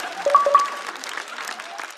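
Audience clapping at a Chinese stand-up comedy show, a short burst of applause with a voice speaking over it near the start.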